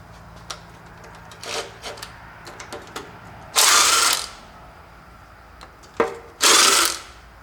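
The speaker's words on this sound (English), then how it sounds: "That's just a matter of removing the bolts all the way around." Ratchet spinning off 11 mm and 13 mm bolts around a Jeep 4.0 liter Chrysler short block, heard as a few quick clicking bursts followed by two longer, loud, rasping runs of pawl clatter, with no talk.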